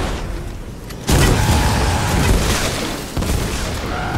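Explosive weapon blasts in the video game Fortnite boom loudly, with one heavy hit about a second in and another about three seconds in, set over a constant roar of battle noise.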